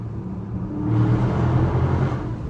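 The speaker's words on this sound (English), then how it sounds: "Hold on, we got another downshift." A Dodge Charger Scat Pack downshifts inside a tunnel at night, its engine note jumping up to a louder, fuller rumble partway through and holding there, with the hollow surroundings adding echo.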